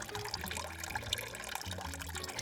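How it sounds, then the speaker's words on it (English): Water runs steadily from a switch-operated tap in a small toilet in the Philippines, a continuous moderate splash and trickle with faint low background hum and no talk. "You have to switch this button across to make the water run."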